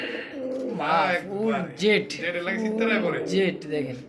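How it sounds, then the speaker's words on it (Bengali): Pigeons at a breeder's loft coo in repeated rounded calls, mixed in with a voice talking nearby. "আমি কবুতরগুলো একটু ডাক দেখাবো"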